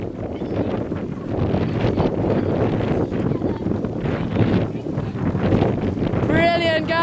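Strong wind buffets the microphone during a women's rowing race at the Cambridge May Bumps, a steady rushing roar under shouted coaching from the bank.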